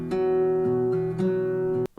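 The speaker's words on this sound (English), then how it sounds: "it comes in the verse, it's this baritone guitar" A baritone guitar plays a short verse riff of low, sustained notes with a few note changes, mixed with a steady higher tone. It sounds for about two seconds before stopping abruptly.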